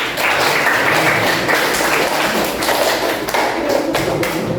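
Students applauding in a classroom at the end of a lesson, close, loud, continuous clapping with irregular individual slaps, no talk over it.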